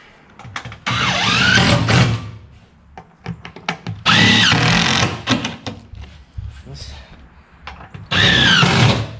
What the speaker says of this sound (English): This drill's the bomb.